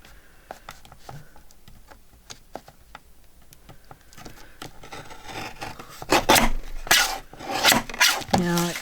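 Scissors trimming a wet paper wine bag, starting as soft scattered snips and rasps, then growing into louder rustling, crinkling cuts near the end.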